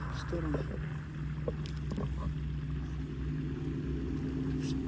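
A small autopilot model boat moves off slowly and then picks up speed, a steady motor drone with a rising tone running throughout, heard against outdoor background noise.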